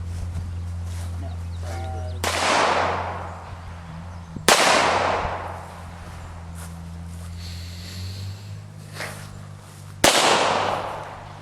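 Gunshots fired outdoors during casual shooting practice, three loud close cracks spaced a few seconds apart, each with a long decaying echo, plus faint handling noise in between.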